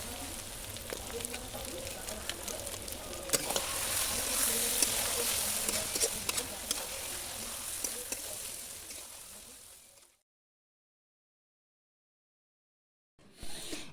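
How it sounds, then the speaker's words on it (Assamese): Ash gourd frying with spices in a home kitchen pan for an Assamese duck meat curry, a steady loud sizzle with stirring scrapes for about ten seconds, then silence and a brief return of sizzling at the end. "এনেদৰে ভাজি ভাজি জহা কোমোৰাখিনি ইয়াতে দি দিয়া গৈছিলে"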